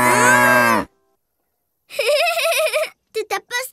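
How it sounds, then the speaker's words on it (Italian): A cartoon cow moos in a long, wavering call, clearly audible and alone, followed after a pause by a few short voiced bursts that sound like brief vocal sounds. "Tutto a posto oggi, amica Mucca"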